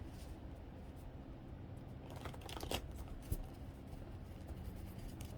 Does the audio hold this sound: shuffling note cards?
yes